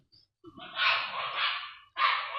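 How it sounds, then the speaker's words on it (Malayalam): A dog barks a few times in quick succession, somewhat distant and moderately loud, with a quieter yip before. "കുറേ നേരം പട്ടികളൊന്നും കുരയ്ക്കുന്നതല്ലേ ആൾക്കാർ കേൾക്കുള്ളൂ"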